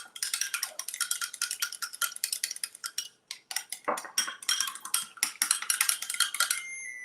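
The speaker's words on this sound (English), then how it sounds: "we're going to put that in here, and we're going to stir it up" Spoon stirring a cinnamon roll mixture in a bowl, fast continuous clinking and scraping strokes with a brief pause midway, close and fairly loud.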